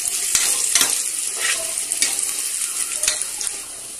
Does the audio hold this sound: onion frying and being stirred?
yes